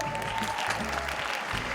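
A school audience applauds after a Kwangwoon University robotics student introduces himself, producing a short, dense burst of steady clapping that stays fairly close and even throughout.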